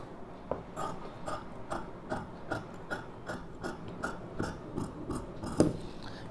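Scissors snipping through blouse fabric to cut the neckline, a steady series of sharp crisp cuts at a regular pace with faint rustling of cloth in between, close up and with no talk.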